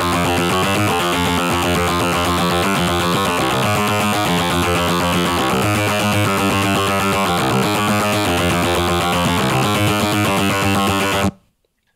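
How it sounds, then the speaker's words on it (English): Dense, bright cyberpunk lead synth patch built in the Vital synthesizer, playing a busy continuous melodic line with thick harmonics for about eleven seconds, loud and unaccompanied by speech, then cutting off abruptly. "how to make a Cyberpunk Lead synth sound"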